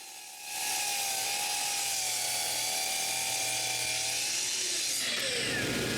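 A table saw spins up and cuts through several stacked wooden drawer sides at once, a loud sustained whine with a shifting pitch as the blade loads, then eases off near the end.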